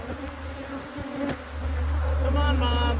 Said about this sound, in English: Look at these bees. They're pretty wrapped up.